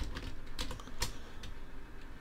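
Computer keyboard keys clack in quick irregular bursts as shortcuts are entered, close and fairly soft, with a few sharper isolated presses and no speech.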